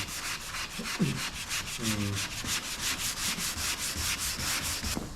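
Steady hand block sanding on clear coat over a car body panel during repair work, a continuous rasping scrape with rhythmic back-and-forth strokes, close and fairly loud, with a few faint knocks and no talking.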